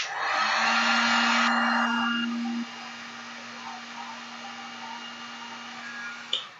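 A heat gun blows with a steady, loud whooshing roar and a constant electric hum. Partway through the airflow drops to a lower setting and keeps running, and it ends with a brief click near the close.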